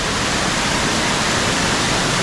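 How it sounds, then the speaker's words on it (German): Water cascades over many rock steps down the Dr. Vogelgesang gorge near Spital am Pyhrn, Austria, a loud, dense, continuous roar filling the air without any pause or voices. "Ein Traum, wie das Wasser hier über viele Stufen bis ins Tal hinunter sich den Weg sucht."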